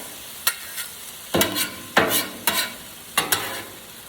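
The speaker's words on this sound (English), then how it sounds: "Mix it around. And I'm going to let that cook with it a little bit before I put the sauce in it." A utensil scrapes and stirs taco filling around a frying pan in several sharp, close strokes, with a steady sizzle of frying underneath.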